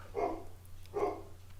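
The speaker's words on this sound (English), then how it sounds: "I apologise for the barking dog in the background." Two faint barks from a dog some distance away, evenly spaced, over a low steady hum.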